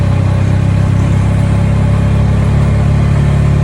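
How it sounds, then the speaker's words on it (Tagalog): A Bajaj Maxima Z tuk-tuk engine labours uphill in third gear, giving a loud, steady, close drone with a strong low hum that holds throughout. "Nahihirapan na yung ating makina. So magte-tersera tayo ngayon."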